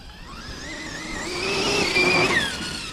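Losi 5ive-B large-scale RC car on Taylor RC super spike tires, its motor whining and rising in pitch as it accelerates, loud and steady throughout with no talking.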